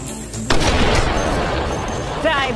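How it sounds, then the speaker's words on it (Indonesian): Gunfire from an action film crashes in loud and close as a sharp burst, then rumbles and echoes on with a ringing tail under a dense, noisy soundtrack. "Tony yang berhasil meloloskan diri, lantas ditembak oleh Sarah."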